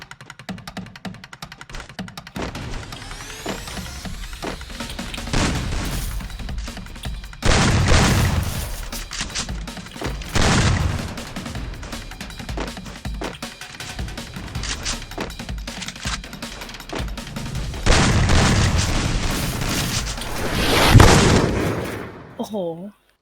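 Gunfire and explosions in the Free Fire battle royale game, with bursts of shots and heavy booms recurring every few seconds under a player's excited talk.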